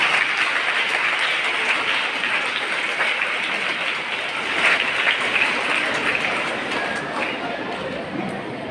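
An audience applauds a school headmistress in a dense, even patter of many hands. The clapping holds steady for several seconds and swells briefly midway before easing slightly toward the end.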